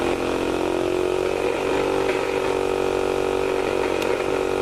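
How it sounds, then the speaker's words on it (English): A small electric motor runs on high-voltage energy from a graphene and graphite atmospheric electricity collector, giving a loud, steady, close whine and buzz with a raspy edge that holds throughout without pause or speech. "The motor is now connected to the circuit, and it spins."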